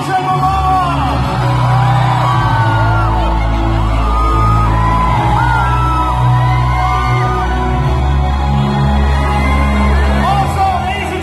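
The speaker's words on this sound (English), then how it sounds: "let's give him a big cheer once again, ladies and gentlemen, Jason Momoa!" A large audience at the Manila Asian premiere of Aquaman yells, whoops and cheers for Jason Momoa in a loud, sustained roar with rising shouts throughout.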